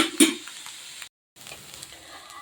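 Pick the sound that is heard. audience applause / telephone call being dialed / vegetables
vegetables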